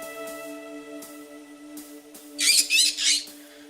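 Baby bird in the Urban Myth Dissolution Center video game squawking in a loud burst of three harsh, raspy calls near the end, over a steady tonal game hum.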